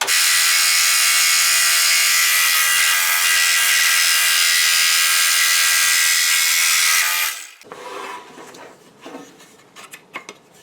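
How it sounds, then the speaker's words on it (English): A power saw cuts through thick material for an alligator crayon holder, running in a loud steady whine for about seven seconds before stopping, followed by quieter scattered clatter and handling noises. "when you get to that point, the cutting goes much faster because so much material has been removed"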